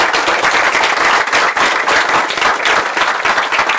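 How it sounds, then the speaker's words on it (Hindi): Loud, dense applause from a seated audience at a live question-and-answer session, steady clapping throughout with no break and no speech over it. "Let's give a big hand for her."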